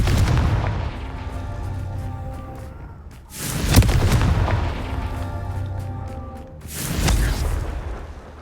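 Confringo fire spell explosions in Hogwarts Legacy, three deep booming blasts spaced a few seconds apart, each with a rumbling tail, loud and close with no talk.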